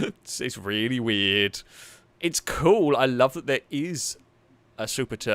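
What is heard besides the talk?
No everyday noises stand out.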